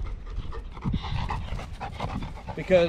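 Black Labrador hunting dog panting close by in quick, rhythmic breaths while someone speaks over it.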